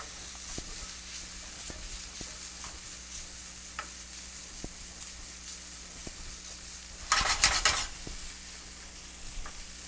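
Onions cook down in a pan with a steady, quiet sizzle and occasional soft stirring taps, then a brief louder burst of crackling spatter near the end, all close by and with no talking.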